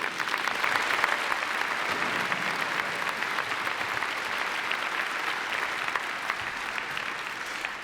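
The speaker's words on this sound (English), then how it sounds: "Please give them a round of applause." Sustained applause from a large audience at a university investiture ceremony, a dense, steady wash of clapping that holds evenly for about eight seconds.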